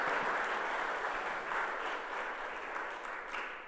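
Sustained applause from a literature festival audience, a dense, steady wash of clapping that holds throughout and fades slightly toward the end, with no speech over it.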